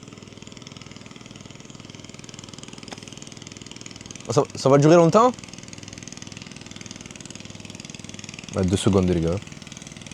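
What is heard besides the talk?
vehicle engine idling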